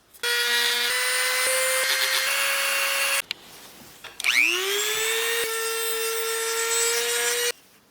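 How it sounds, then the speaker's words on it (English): A Dremel rotary tool sands the inside of a hand-carved wooden knife, whining steadily in close bursts, briefly stopping, then spinning back up with a rising pitch and running again before cutting off. "Now I'm just gonna sand the insides to make it nice and smooth."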